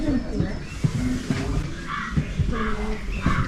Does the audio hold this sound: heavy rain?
no